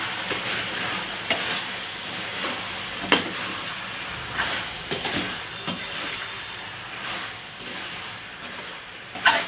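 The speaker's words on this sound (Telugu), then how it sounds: "మొత్తం కలుపుకుంటున్నానండి." Pieces of chicken curry seasoned with chili powder and salt are stirred in a hot pan. A steady sizzle and hiss runs throughout, broken by repeated scraping strokes of the spoon, close and fairly loud, with no talking.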